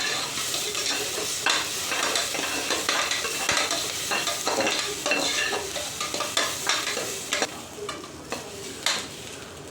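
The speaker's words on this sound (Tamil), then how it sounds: "இப்போது பச்சை மிளகா ஆட் பண்ணிக்கலாம். நல்லா வந்து மிக்ஸ் பண்ணிக்கலாம்." Green chillies fry and sizzle in a pan for kuska biryani while a utensil stirs and scrapes them. The crackling is continuous and close, broken by repeated stirring strokes, with no talking.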